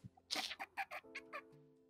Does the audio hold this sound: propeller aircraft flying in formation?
no